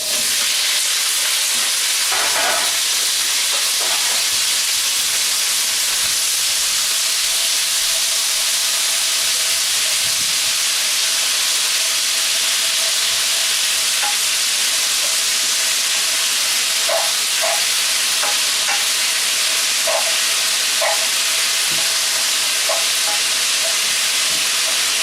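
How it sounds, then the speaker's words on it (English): Potatoes, green peppers, garlic and onions stir-fry in a hot wok with a loud, continuous sizzle and hiss, punctuated by occasional clinks of a utensil against the pan. "Keep stir frying for about another 45 seconds to a minute."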